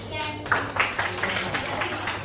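A few scattered hand claps from a classroom group in an Islamic studies teacher-training session, sounding for group 3 after their presentation, moderately close and mixed with ongoing children's and adults' chatter.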